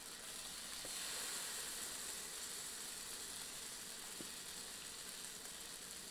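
Eggnog-dipped French toast frying in a pan, giving a steady, soft, continuous sizzle and hiss that holds evenly throughout with no talking.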